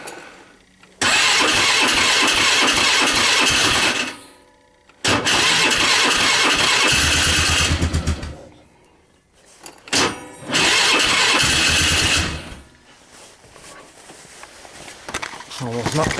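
A 2010 Polaris Sportsman 500 ATV is cold-started in freezing weather: three loud cranking bursts of several seconds each, separated by short gaps, after which the engine catches and sputters into a rough idle.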